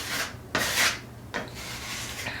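Drywall being scraped during a bathroom renovation, with a few close rasping strokes, each a broad gritty scrape followed by short pauses, and no voices.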